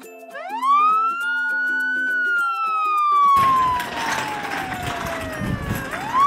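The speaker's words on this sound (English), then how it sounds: "Dr. Hazel, you forgot the ambulance." A toy ambulance siren wails loudly with rising and falling electronic tones and a beeping pulse, then carries on under busy background noise and chatter before swooping up again at the end.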